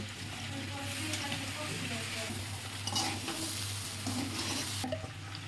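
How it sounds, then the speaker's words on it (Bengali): Red lentils, rice and meat fry together in a pan, giving a soft continuous sizzle with frequent scraping and stirring of a spoon against the pan close by. "এবার মসুর ডালটা দিয়ে হালকা একটু ভেজে নেব"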